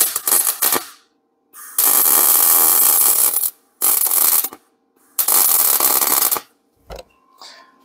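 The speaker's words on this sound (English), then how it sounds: "it should be easy to weld this nut onto" A nut being welded onto a stuck bolt in aluminum gives three long, loud, harsh crackling buzzes, each a second or more, separated by short silences and followed by a couple of brief bursts.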